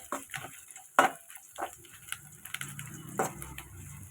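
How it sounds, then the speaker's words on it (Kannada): Dried red chillies fried in oil in a pan for tomato bath, with soft crackles and occasional sharp clicks of a spatula stirring against the pan, fairly quiet and close, without talk. "ಸ್ವಲ್ಪ ಚೆನ್ನಾಗಿ ಫ್ರೈ ಆಗಲಿ."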